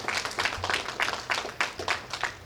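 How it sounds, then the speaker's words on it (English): Audience applause at an indoor public announcement event, a steady wash of many hands clapping with rhythmic swells, moderately loud and continuous throughout, with a low hum underneath. "Can you give them a round of applause for making this happen?"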